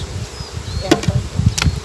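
Honey bees buzz close by during a hive inspection, a loud steady hum with a few sharp clicks and bumps over it.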